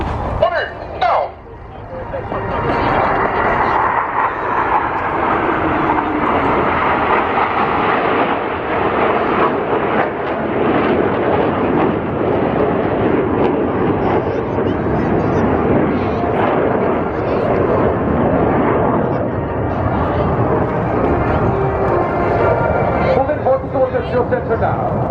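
Jet aircraft roaring through a display maneuver at the RIAT Air Tattoo airshow, a loud continuous rumbling engine roar sustained for the full stretch, with an announcer's voice over the public address mixed underneath.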